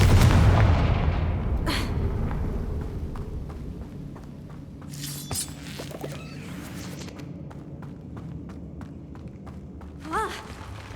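Confringo fire spell explosions in the video game Hogwarts Legacy, a deep booming blast at the start fading into rumble, followed by scattered thumps, footsteps and faint chirping game effects.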